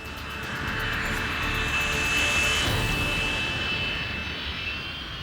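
An airliner on approach to Funchal airport in crosswind gives a loud, sustained roar with a whining tone that swells toward the middle and then eases slightly as it passes, with no voices.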